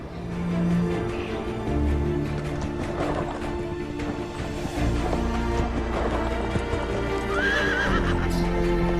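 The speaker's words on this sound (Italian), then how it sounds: "Questi cavalli che abbiamo incontrato qui in Friuli Venezia Giulia sono proprio i cavalli della Camargue" Camargue horses walking through the Isonzo river mouth nature reserve in Friuli Venezia Giulia, with steady close hoof clip-clops and a whinny, alongside some watery splashing and no talk.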